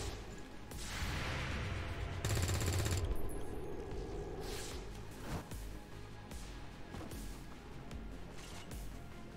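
Gunfire in XCOM 2 arrives as scattered loud bursts and impacts. A dense crackling volley sits near the middle, with sharp single reports after it, over a low rumbling background and no talk.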